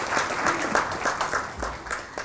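Applause from the audience at a fashion forum panel discussion, a steady, even round of clapping at moderate volume with no voice over it.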